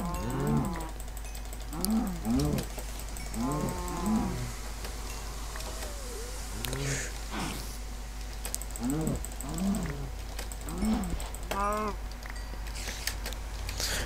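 Cows mooing repeatedly in Minecraft, a series of low, drawn-out bellows arriving one after another over steady background noise, with no talking.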